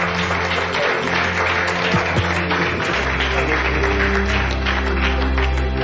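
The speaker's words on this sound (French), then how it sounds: "Est-ce qu'on peut vous applaudir?" Contestants who arrived first in Moscow on the reality race show Pékin Express are applauded with loud, dense, continuous clapping that fills the whole stretch, and a low hum joins partway through.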